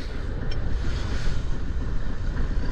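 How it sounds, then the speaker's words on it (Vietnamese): Strong wind buffets the microphone at sea from a small boat used for diving and shellfish gathering, a loud continuous roar with surf-like wash and gusty swells throughout, no voices. "Trời ơi, có gió nè."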